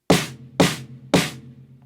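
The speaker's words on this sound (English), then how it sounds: "here's the sound of the snare drum before, the head laid on top" Three evenly spaced, sharp snare drum strokes with an old 10-inch drum head laid on top of it, each a bright close crack with a short decay and no talk.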